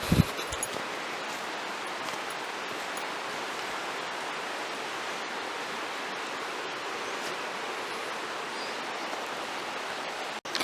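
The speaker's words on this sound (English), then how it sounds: "All you hear is the sound of water and nature" Flowing water along a quiet forest trail near a waterfall, a steady, even broadband rush running unbroken and moderately soft for the whole stretch, with no voices.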